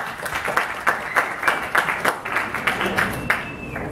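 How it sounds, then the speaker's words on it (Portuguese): A small audience at a motivational talk claps in a loose, fairly regular rhythm, moderately loud and close, with some speech mixed in beneath the handclaps. "Então palmas pro Luciano."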